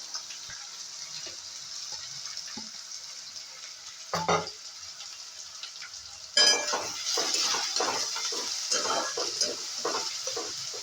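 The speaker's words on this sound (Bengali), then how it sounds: "এবারে তেজপাতা দিলাম আর কুচনো পেঁয়াজগুলো ভাজতে দিয়ে দিলাম।" Chopped onions and bay leaf hit hot oil in a pan at home, a quiet hiss giving way to a loud, bright sizzle after a clatter, with stirring scrapes over the continuing frying.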